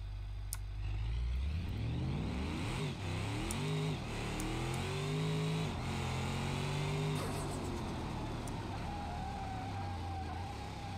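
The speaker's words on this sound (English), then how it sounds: "Oh, the turbo noises." A stage 3 tuned car in the BeamNG Drive driving game revs hard, its engine tone climbing and falling in repeated sweeps while a steady turbo whine and whistle run on top. The sound is loud and continuous, with no talk over it.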